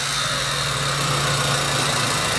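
The engine of a Mitsubishi Galant with a MAP and MAF sensor problem runs with a loud, steady mechanical hum and drone, close by and with no voices.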